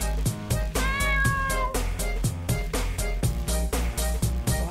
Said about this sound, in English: Why does he have a cat?